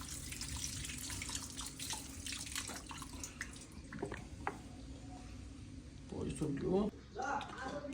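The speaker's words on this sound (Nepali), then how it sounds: "मजाले गाजर पखालेर हामी सुरु गर्दैछौँ बनाउनको लागि" Homegrown carrots are washed by hand in a sink under running water for carrot halwa, with a steady tap flow, splashing and swishing, and a brief louder burst of sloshing near the end.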